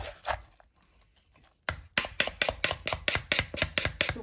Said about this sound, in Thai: ตำมะละกอใส่แครอทนิดหน่อยใส่มะเขือเทศ